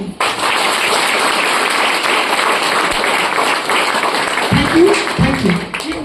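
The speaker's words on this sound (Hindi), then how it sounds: "आप एकदम धन्यवाद देते हुए जबरदस्त तालियां बजाएं।" Loud, sustained audience applause fills a motivational business event hall, honoring the company founders, with a few faint vocal sounds near the end.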